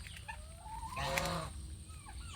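Chickens cluck faintly nearby in a village farmyard, with a few soft calls and a slightly louder burst in the middle over quiet outdoor background.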